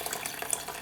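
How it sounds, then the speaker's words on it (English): Water pours into a mini rice cooker pot, a brief bright splashing trickle close by. "But you're going to add water until it gets to the 2 cup line."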